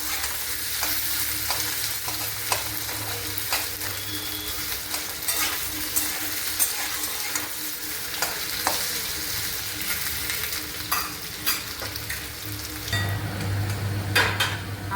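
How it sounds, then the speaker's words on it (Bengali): Potato pieces fry in a pan for a Bengali cabbage curry, a steady close sizzle with frequent scraping stirs and clinks running throughout, growing louder and busier near the end. "আলুগুলো একটু লাল করে ভাজা হয়েছে"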